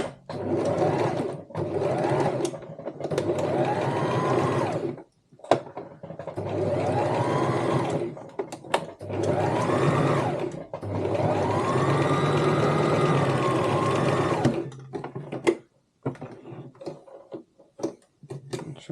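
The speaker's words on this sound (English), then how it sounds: "I like to just sew this with a 1/4 inch seam allowance" A sewing machine stitches a 1/4 inch corner seam on a cosmetic bag, running in several loud, steady bursts of a few seconds each, separated by short pauses, with quieter handling at the end.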